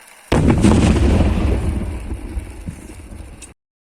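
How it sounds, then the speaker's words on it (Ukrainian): A loud, deep landmine or explosive blast bursts suddenly during demining work in Ukraine, then rolls on in a long rumbling roar that slowly fades over a few seconds. "Вибух."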